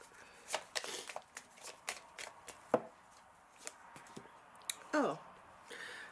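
Rune stones or cards shuffled by hand for a divination reading, heard as a string of sharp irregular clicks and rattles, close and fairly quiet, with a brief soft scrape near the end.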